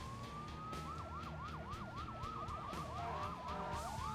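An emergency vehicle siren in the Emergency HQ disaster-management video game, a rapid yelping wail cycling over and over at moderate volume with a steady engine-like rumble beneath.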